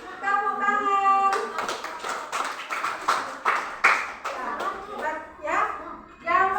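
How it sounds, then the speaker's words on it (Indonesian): Schoolchildren in a classroom clap for group 4, bursts of rhythmic clapping between stretches of a child's and a teacher's speech, close and fairly loud. "Kita beri tepuk tangan"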